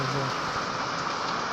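Heavy rain falling over a village, a continuous broadband wash of drops close by, steady and loud throughout with a faint low tone briefly underneath at the start.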